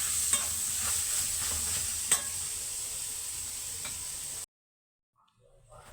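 Macaroni in water being stirred in a pan for a baked béchamel macaroni tray, with a continuous close hiss and a few light scraping taps before the sound cuts off abruptly into near silence.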